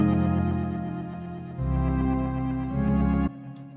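A sustained synth chord run through a groove delay and Valhalla Room reverb, thick and loud, its tone shifting between a few held harmonies with a wide, spacious tail.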